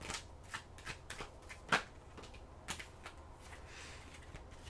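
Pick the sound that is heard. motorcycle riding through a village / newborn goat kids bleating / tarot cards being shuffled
tarot cards being shuffled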